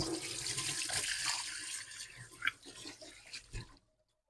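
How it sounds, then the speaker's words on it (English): Tap water runs steadily into a kitchen sink while hands are washed under it, splashing and sputtering, then the flow stops abruptly. "let me just wash my hands"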